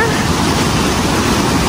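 Loud, steady roar of a waterfall at Cachoeira dos Pretos in Joanópolis, São Paulo, a dense broadband rush of falling water filling the whole stretch without pause.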